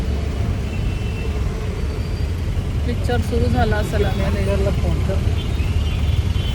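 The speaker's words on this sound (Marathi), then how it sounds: "सिग्नल लागलेला आहे ट्रॅफिक खूप आहे" Busy city road traffic held at a signal, a steady close engine rumble from idling cars and larger vehicles, with a person speaking over it partway through.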